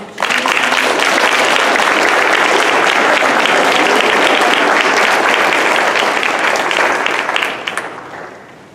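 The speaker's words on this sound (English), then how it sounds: "I think that you should give another round of applause to Mr." Sustained loud audience applause fills a graduation ceremony hall, many hands clapping steadily for several seconds before tapering off at the end.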